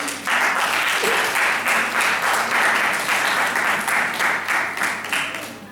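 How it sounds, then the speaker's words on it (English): An audience at a Model United Nations conference applauds for two teachers, producing dense, sustained clapping that stays loud and even for several seconds before tapering slightly at the end. "Let's clap hands for them."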